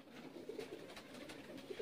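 Dab-marked pigeons in a loft give low, soft cooing at a distance, a few rolling calls over a steady faint background hiss.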